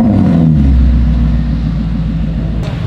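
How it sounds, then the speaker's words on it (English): A 2013 supercar's V8 revs loudly up close, a deep pulsing rumble that swells and settles into a throbbing burble, with no talk. "that is easily one of the best sounding V8 notes in the entire world"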